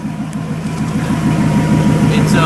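The 5.0 V8 of a 1995 Ford F150 with the muffler removed idles loud and close, a low rumble with a steady, even pulsing throb throughout.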